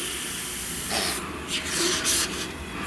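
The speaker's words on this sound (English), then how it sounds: "that's the general idea of how an airbrush works" An airbrush sprays paint in short hissing bursts over a steady background hiss, several puffs of spray rising and falling close by.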